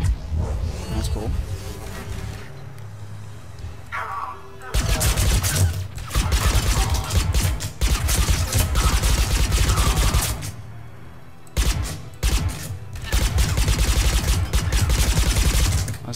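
Gunfire in the video game Mass Effect 3: long, loud bursts of rapid automatic shots, close and heavy, broken by short quieter gaps, with someone talking at times.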